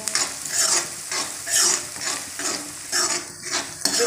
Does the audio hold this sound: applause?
no